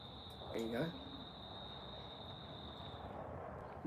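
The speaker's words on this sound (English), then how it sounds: "That's a loud cricket, that one," A cricket chirps in a loud, steady high trill that runs on continuously, with a brief spoken voice near the start and quiet outdoor background beneath.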